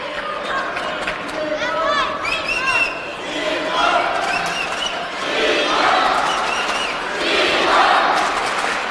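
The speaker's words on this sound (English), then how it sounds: "Very rarely do we hear someone out cheering the Chinese fans in the crowd." Crowd of fans cheering and chanting at a table tennis match between Dimitrij Ovtcharov and Fan Zhendong, loud, dense voices swelling in waves throughout.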